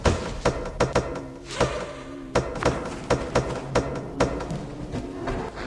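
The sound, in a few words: stove door closing in video game Bloody Nights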